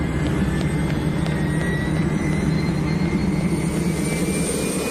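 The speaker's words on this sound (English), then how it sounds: "NASA has a high-altitude jet specially designed to gather space dust" A NASA high-altitude jet aircraft roars steadily with a broad, constant rumble and a faint rising whine above it, loud and continuous with no talk.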